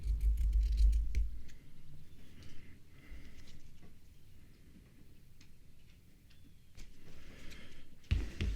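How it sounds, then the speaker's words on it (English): Scissors snip the tags off blankets in a few quiet, sharp clicks spread over soft rustling of fabric, close by and otherwise without talk. "I'm going to cut some of these tags off while I'm at it."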